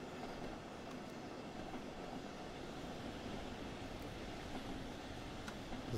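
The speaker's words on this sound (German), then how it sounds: "Da fährt noch ein Talent 2 ein." A Talent 2 electric multiple unit pulls into a station in the Train Sim World 3 simulator, giving a dense, continuous rumble of wheels and running gear with faint squeal and clatter, steady and fairly loud throughout.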